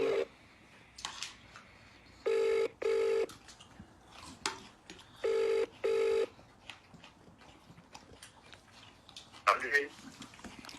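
A telephone call goes unanswered, with repeated paired electronic ringback tones at a steady rhythm, moderately loud, amid faint background noise and brief voice sounds.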